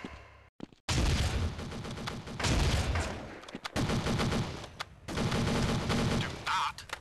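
P90 submachine gun fire in the video game Counter-Strike comes in several loud, rapid automatic bursts separated by short gaps. Faint in-game voice lines sound in the background.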